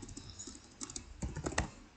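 Someone types on a computer keyboard in short, uneven bursts of close, soft clicks and key taps, heard on their own with nobody speaking.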